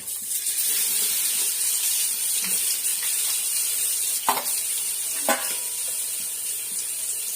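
Garlic and curry leaves fry in hot oil for a fish kuzhambu, giving a constant loud sizzling hiss. Two distinct stirring clunks stand out near the end, and no one talks.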